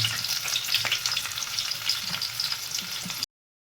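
Onions frying and being stirred in a pan for a vegetable biryani, a steady close sizzle with scraping stir strokes throughout, ending abruptly in silence.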